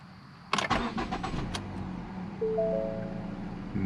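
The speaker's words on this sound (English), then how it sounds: "First start on this 2016 Ford Fusion, lightly wrecked in the front." A lightly front-wrecked 2016 Ford Fusion cranks with a few quick starter turns, catches, then settles into a steady idle with a faint tonal whine as the engine runs, heard close with no voices.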